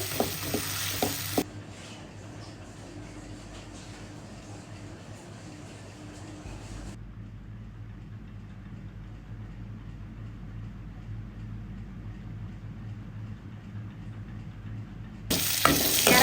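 Onions frying in a pan for Nellore-style peanut chutney, a soft continuous sizzle with occasional stirring, sharper louder bursts at the start and end.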